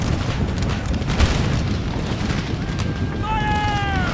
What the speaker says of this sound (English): Nice firing from the troops.